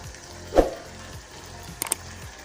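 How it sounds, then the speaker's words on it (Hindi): Cauliflower and mutton for gobi gosht fry in a pan under a faint sizzle, with one solid clank from a spoon and a short cluster of light scraping taps a moment later. "अब हम इसे 10 मिनट भूनेंगे।"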